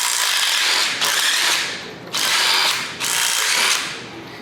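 A ratchet wrench with a 9/16 socket turning exhaust manifold bolts loose on a Ford 302 small-block V8, four long rasping ratchet strokes in steady rhythm, loud and close.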